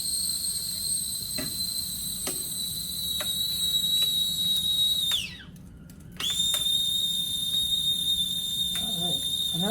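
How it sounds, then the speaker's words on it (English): A steady, loud, high whistle, like a tea kettle, rings as liquid nitrogen boils inside, cutting out briefly partway through before resuming at a slightly lower pitch. "Boiling liquid nitrogen."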